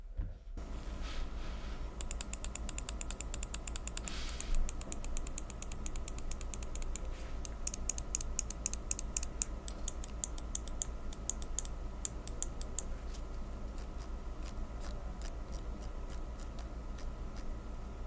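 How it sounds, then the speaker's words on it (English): Mouse clicks on a PMM Pulse gaming mouse, a rapid series of crisp, close clicks repeated in irregular bursts over a low steady hum, with no voices. "I'm gonna just drop a sound test for you guys in a second."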